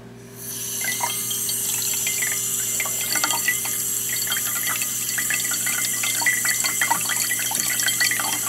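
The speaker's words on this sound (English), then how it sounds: "Here's some skin liner that's been on the skin for at least a half an hour, and we're going to try to rinse this off." Running water from a tap splashes and trickles steadily while rinsing skin liner makeup off skin, with small drips and patters over a low constant hum and no talking.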